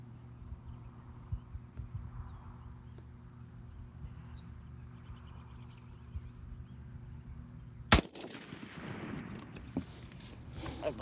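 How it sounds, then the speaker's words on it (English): A single sharp gunshot at an outdoor shooting range, one loud crack near the end that follows a long stretch of steady low background hum, with a brief reverberant tail afterward. "I believe that was the last shot."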